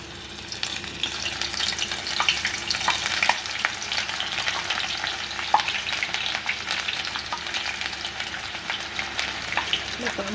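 Crispy banana flower pakoda batter fries in hot oil, a loud, continuous bubbling sizzle with frequent sharp crackles and a faint background voice now and then.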